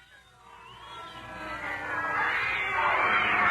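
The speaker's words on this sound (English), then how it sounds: "A plague of cats, Prince." Several cats yowl and caterwaul in rising, wavering cries that swell louder toward the end, a radio drama sound effect heard alone without speech.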